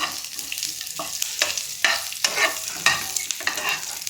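Garlic, ginger and green chili fry and sizzle in a pan over lowered heat, with steady crackling under repeated scraping stirs, close and without voices.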